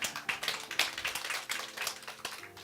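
A church congregation claps together, a fairly faint, rhythmic patter of many hands with regular beats, heard from a distance in a large room.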